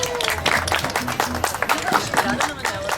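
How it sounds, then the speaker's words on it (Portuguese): Audience applause at an evening literary event in Portugal, a book launch with the author and a moderator present, the clapping steady and close with a murmuring crowd and scattered voices underneath. "Uma salva de palmas para eles."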